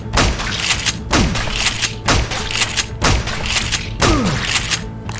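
Gunfire in the video game Left 4 Dead 2 comes as loud, close bursts of shots recurring roughly every second, each with a thumping impact and a quick falling tail, over a steady background hum.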